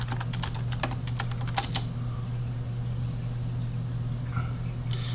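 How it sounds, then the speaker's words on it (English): Computer keyboard typing a root password, a quick run of clicking keystrokes in a short burst, then a pause and a few more taps, over a steady low hum of a computer fan. "I type in my root password,"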